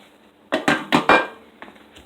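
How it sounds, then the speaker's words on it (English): A pan is set back onto a stove while a pork chop is being breaded, giving four close, sharp metallic knocks in quick succession, then a few fainter clinks. "Bring our pan back over."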